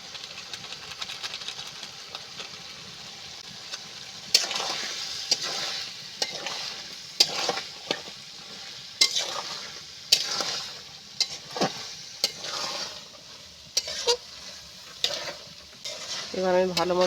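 Ghugni with roasted spices being stir-fried in a pan: steady sizzling broken by repeated scraping and stirring strokes of a spoon against the pan, close and fairly loud, with no talking.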